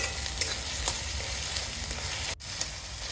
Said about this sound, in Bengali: মরিচের গুঁড়া, হলুদ গুঁড়া, সামান্য জল দিয়ে মশলাটা কষিয়ে দেবো